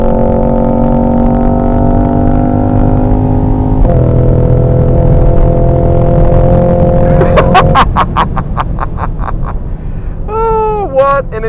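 A Cadillac Blackwing sedan powers around the VIR track, its engine holding a steady loud drone before breaking into rapid rhythmic crackles and higher rising tones as it accelerates.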